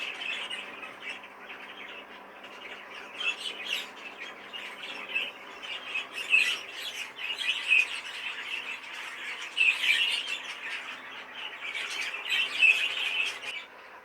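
A pair of Fife canaries in cages gives repeated bright chirps and squawks, some near and some farther back, scattered across a quiet room with no talking.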